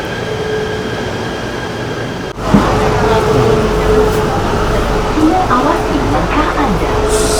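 A KTM commuter train bound for Batu Caves in Kuala Lumpur, Malaysia, makes a steady low rumble with a faint tonal whine. A sharp jolt near the start is followed by continuous rolling noise, and a voice is faintly present.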